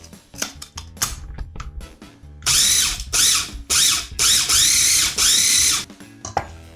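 Food processor grinding hazelnuts into butter, loud bursts of whirring motor pulsing on and off in short repeated runs with rattling between, close and strained.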